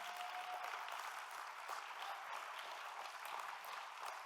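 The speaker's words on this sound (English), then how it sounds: "let's give them a big round of applause one more time" Applause from a banquet crowd at an ACLU of Michigan annual dinner honouring awardees, a steady, even wash of many hands clapping that sounds somewhat distant and soft, continuing without speech.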